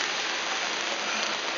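Heavy rain pours down in London in a dense, constant hiss, loud and close, with no other sounds breaking through.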